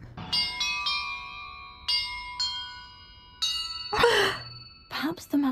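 Bells rung during a puzzle in the video game Hogwarts Legacy: several separate strikes in sequence, each a clear, sustained, shimmering tone, followed by breathy sighs and gasps near the end.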